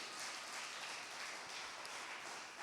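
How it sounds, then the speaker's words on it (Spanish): A church congregation applauds on a quiet afternoon, a faint, even wash of clapping hands spread across the room for a few seconds without voices. "Alguien puede dar un aplauso al Señor en esta preciosa tarde."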